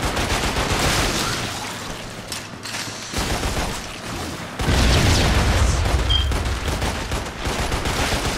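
Hand grenade blasts in the video game Lost Planet, heavy booming bursts layered with mechanical clatter and rattling fire, loud and continuous with a sharp surge partway through.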